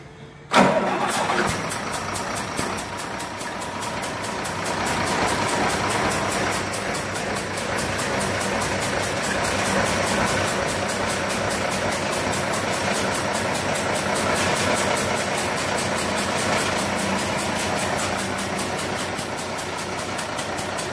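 Vehicle engine in a workshop, starting with a sharp catch then settling into a loud, steady running drone with a constant high whine, holding an even idle throughout with no talk.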